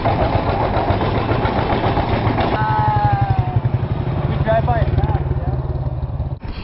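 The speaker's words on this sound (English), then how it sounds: "So this is what a gas station looks like in Vietnam." Motorcycle engines idle at a gas station in Vietnam, a steady close putter that runs throughout with pulsing exhaust beats, while other faint tones sound in the background.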